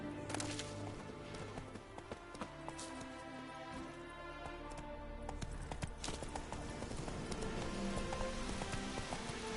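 Roach the horse's hooves clip-clop steadily at a run in The Witcher 3: Wild Hunt, close and continuous over tonal game music for the whole stretch.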